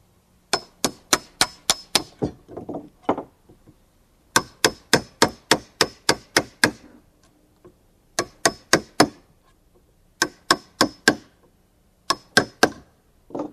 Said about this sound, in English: A chisel finishes it off.